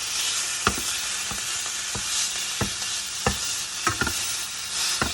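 A steak fries in a pan on a stovetop, giving a steady bright sizzle with scattered pops and crackles, close and moderately loud, with no talking.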